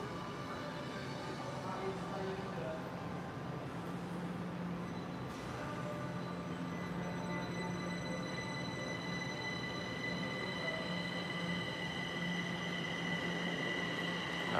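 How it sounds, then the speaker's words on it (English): A Kaohsiung metro train pulls out of the station, a steady low rumble and hum of wheels and motors building slightly over about fifteen seconds, with faint squealing tones riding above and no talking. "Bye-bye, train."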